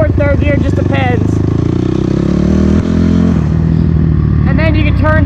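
A motorcycle climbing a hill on a dirt trail through a large horse farm, shifted into second or third gear. The engine drones loud and steady close by, its pitch rising as it pulls up the slope, and the rider talks over it.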